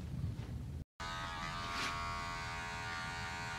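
Wahl electric hair clippers buzz steadily while cutting a guideline during a barber competition haircut, a close continuous hum with a brief dropout near the start.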